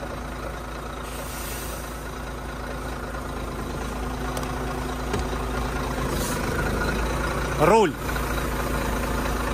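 Truck diesel engine idling in neutral, a steady low rumble under a brief spoken word, with a short hiss-like squeal near the end.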